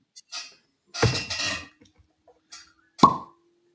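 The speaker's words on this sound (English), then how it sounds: "Cork pop. I put a top cork in there just for that pop." A cork comes out of a bourbon bottle with a short, sharp pop, set among a few other soft handling clicks and rustles in an otherwise quiet room.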